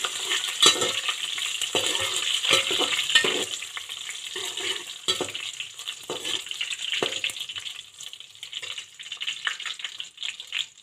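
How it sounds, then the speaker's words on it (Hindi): Cumin seeds, half a teaspoon, lightly roasting in a pan as the base for a mixed vegetable pulao, giving a soft steady sizzle with occasional stirring and scraping clinks, faint and close, with no talking. "यहाँ पे मैंने हाफ़ टी स्पून ज़ीरा ऐड करके इसमें बुनाई की है हल्की सी।"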